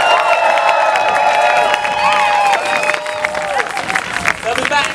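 A crowd at an Extinction Rebellion street demonstration cheers and claps, starting as a loud sustained roar of voices and breaking into dense, scattered applause as it goes on.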